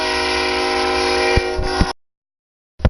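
A loud, sustained train horn blares steadily in a video game close-range training match, broken by a few low thumps before it cuts off abruptly, leaving silence, then a brief burst of sound returns near the end.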